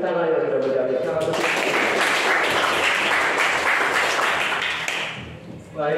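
A classroom audience applauds a presentation, a dense wash of clapping lasting several seconds, steady and fairly loud before tapering off, with speech at the start and end.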